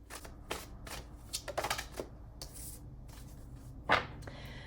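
A deck of oracle cards being shuffled by hand, several soft riffling bursts and papery flicks spread across the moment, fairly quiet and close, with no talking.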